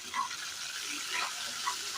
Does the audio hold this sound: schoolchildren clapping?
no